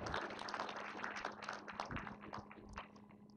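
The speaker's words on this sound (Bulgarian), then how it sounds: "И едни големи аплодисменти за Жанет Найденова, председател на ЯП България" Audience applause for the opening speaker at a 2012 IAB Forum digital-marketing conference in Bulgaria: steady, dense clapping from a hall crowd that carries on through the whole stretch, with no voices.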